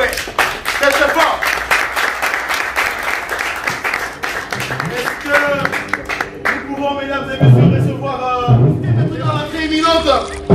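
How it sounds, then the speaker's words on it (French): At a wedding celebration, a crowd applauds loudly and continuously for several seconds, then the clapping gives way to a speaker's amplified voice over lingering crowd noise. "Si vous pouvez applaudir très très très fort s'il vous plaît."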